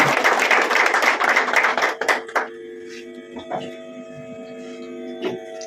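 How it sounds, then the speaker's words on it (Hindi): A standing audience claps in a dense burst of applause at a crowdfunding business seminar, fading out after about two seconds, leaving sustained ringing tones in the background. "आप सभी एक बार खड़े होकर के जोरदार क्लैपिंग करें"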